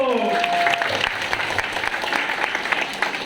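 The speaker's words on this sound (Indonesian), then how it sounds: "Jadi tepuk tangan sekali lagi pada divisi ibu." Audience applause rises after a brief voice and carries on as even, moderately loud clapping from an indoor crowd at a community gathering.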